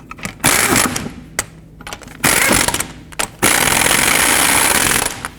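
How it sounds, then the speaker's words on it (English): Lug nuts are snugged onto a front wheel of a 2007-14 Chevy Silverado with an impact gun, giving loud hammering rattles in several bursts separated by short pauses, close up. "Start on all of your lug nuts, snug them down, and then I'm going to torque them to 140 foot-pounds."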